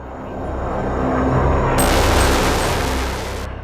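A-10 Warthog's 30mm Gatling gun firing, a loud, dense continuous mechanical roar that swells and holds for about two seconds before stopping, with a rumbling low end.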